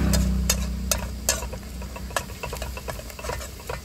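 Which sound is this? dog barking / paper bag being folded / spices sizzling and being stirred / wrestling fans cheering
spices sizzling and being stirred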